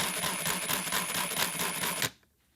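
A jigsaw cutting in straight mode, a dense, steady buzzing rattle at close range that runs for about two seconds and then stops abruptly.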